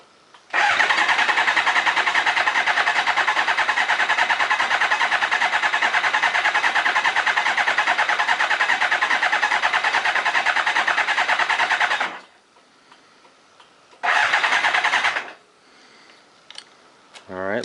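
An old Kawasaki ZZR 600 motorcycle engine cranks loudly and steadily on the starter for about eleven seconds without catching, pauses, then gives one more short cranking burst before stopping.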